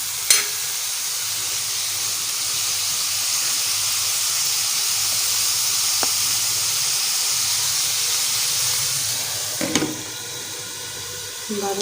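Boneless tawa chicken, about 250 grams, sizzles in desi ghee on a flat griddle. A steady, loud frying hiss runs throughout with a few sharp spatters and clinks; no one speaks.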